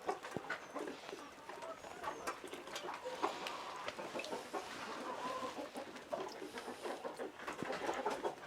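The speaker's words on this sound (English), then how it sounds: "All the chickens are here. They have been just fed." Several just-fed chickens cluck and chatter together at close range in a Moldovan village in winter, a busy overlapping flock with scattered sharper calls over steady background noise.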